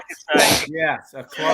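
A single sharp sneeze bursts out close by in the middle of people talking.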